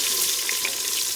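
Onions hitting hot oil in a biryani pot cooking outdoors, giving a loud, dense, continuous sizzle with no breaks.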